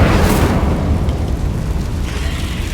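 Incendio fire spell cast in Hogwarts Legacy, a loud whooshing burst of flame with a booming roar that trails off into a rumbling crackle over a few seconds, with no talk.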